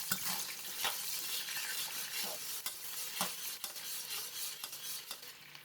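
A spoon stirs water, light soy sauce, oyster sauce and sesame oil in a hot pan for mixed vegetables: soft sizzling under repeated scrapes and clinks of the utensil against the pan, fairly quiet and close, with no talk.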